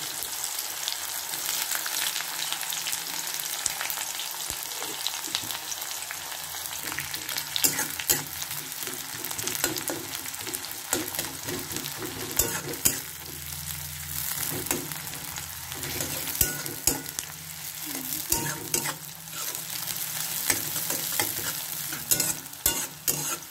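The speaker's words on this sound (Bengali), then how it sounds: "বন্ধুরা পেঁয়াজ ভাজা হয়ে গেছে" Chopped onions fry in oil for an egg biryani, a continuous close crackling sizzle with frequent spatula scrapes and stirring clatter throughout and no voices.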